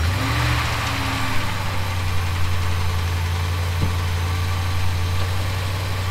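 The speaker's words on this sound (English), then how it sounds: "Hopefully you can hear me okay over the sound of the engine." A truck engine idles steadily up close, running a car generator: a constant low, even rumble with no revving and no voices.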